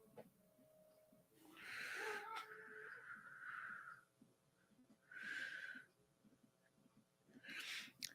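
A real house cat meows near the microphone in a room with a computer game running, giving a few drawn-out mewing calls with pauses between them, fairly close but soft against faint background noise.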